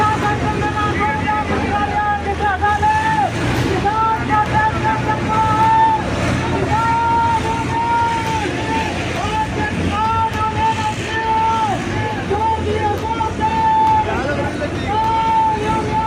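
A farmers' tractor convoy bound for Delhi drives on near Dhanaura, a continuous engine drone with recurring tonal whines rising above it and voices talking throughout.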